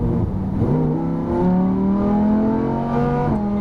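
A Lamborghini Huracan on a racetrack at full throttle, its engine note climbing steadily in pitch as it accelerates hard, loud and close, with a brief dip around a gear change.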